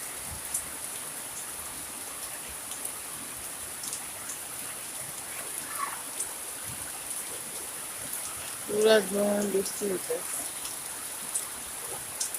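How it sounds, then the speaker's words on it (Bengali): Steady hiss of heavy rain pouring down throughout on Eid day, with a brief burst of voices partway through over the downpour. "এখন প্রায় বারোটা পনেরো বাজে এই মুহূর্তে ধুম বৃষ্টি"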